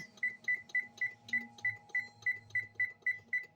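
Kitchen timer beeping in a home kitchen after a tuna casserole goes into the oven: a steady series of about fourteen short, even, high beeps at a quick regular rhythm, close and clear over a low background hum.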